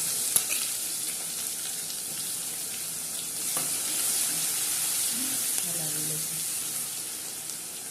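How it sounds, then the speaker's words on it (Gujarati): Onion fries in hot oil for a tempering in a village-style Kathiyawadi dhokli curry, giving a continuous close sizzle with occasional clinks of stirring throughout. "ડુંગળીનો વઘાર કરીશું."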